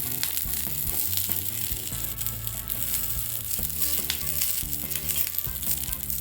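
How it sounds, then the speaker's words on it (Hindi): Tomatoes scored with a cross sizzle loudly in oil on a hot tawa, a dense continuous crackle with occasional clatter of the pan, close and without talk. "तो टमाटर पर इस तरह क्रॉस का निशान लगाकर तवे पर रख देते हैं"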